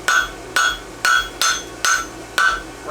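A hammer strikes hot steel while forging a clip on a French hind horseshoe, six sharp ringing blows landing at an even, steady pace, close and loud with nothing else heard.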